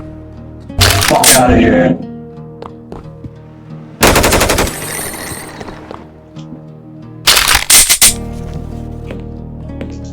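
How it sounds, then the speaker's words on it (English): Loud bursts of automatic gunfire from Mexican gangsters in an open-world Half-Life GoldSrc mod game, three separate rattling volleys of a second or so each, with a short curse spoken between them. "We're getting shot by Mexican gangsters."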